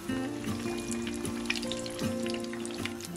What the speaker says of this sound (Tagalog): Prito lang natin to until it turns golden brown.